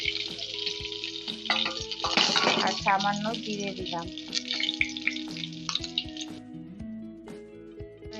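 Whole spices and cumin frying in hot oil for a home-style Bengali mutton curry: a steady close sizzle with spatter and stirring clinks from the pan, under a voice speaking throughout.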